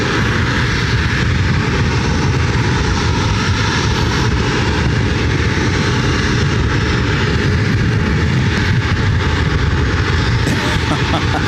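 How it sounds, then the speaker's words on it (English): A United Airlines Airbus A320 arriving from Denver at Ontario, California airport makes a loud, steady jet roar that fills the whole stretch with broad, sustained noise, heard alone without talk. "Next flight coming in is United Airlines flight 2057 coming in from Denver. It's an A320."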